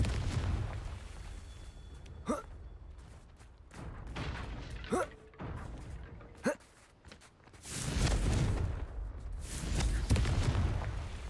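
Explosive blasts from the Confringo spell in a Harry Potter-style video game, a few sharp bangs that rise out of rumbling game ambience. Low rushing booms swell near the end.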